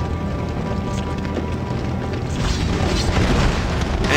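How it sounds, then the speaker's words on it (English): Launcher platforms blow apart in the X-Men Legends video game, a dense, loud rumbling boom with crunching mechanical debris that swells louder over the last seconds, with no talk. "And you can destroy the launcher platforms."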